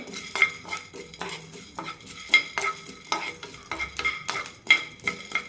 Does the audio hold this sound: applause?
no